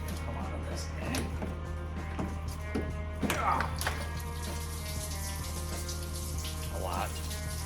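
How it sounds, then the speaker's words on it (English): Engine coolant drains out of a car, a running trickle and splash of liquid with occasional clinks and handling noises under a steady hum, and a person speaks briefly. "let's see how much coolant's gonna come out of this thing"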